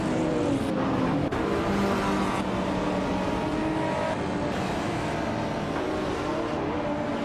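Racing game cars, led by a 1987 Ford Sierra RS500 Cosworth in the Retro Street Cars class, drone together in a steady, loud engine roar from start to finish with no pauses.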